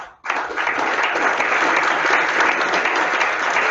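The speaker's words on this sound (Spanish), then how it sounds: "démosle un fuerte aplauso al señor Molpeceres." An audience at a seminar opening in Chile breaks into strong, dense applause after a brief pause, sustained and steady at a loud, even level for several seconds.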